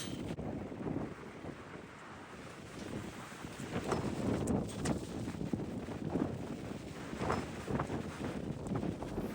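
Steady wind roars and buffets the microphone outdoors, a loud continuous rumble with gusty swells throughout.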